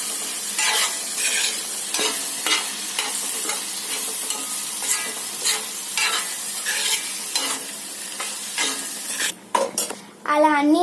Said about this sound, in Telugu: ఇంకా సేపు ఫ్రై చేసుకోవాలి